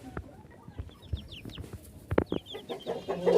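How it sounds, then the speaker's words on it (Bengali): Cochin bantam and silkie chickens cluck in short, uneven bursts close by, with a few higher chirps mixed in and a busy farmyard background. "এখানে কোচিং ব্যান্থাম আছে আট পিস এবং সিল্কি আছে ছয় পিস"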